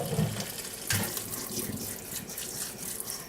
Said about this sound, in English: we want to rinse these with cold water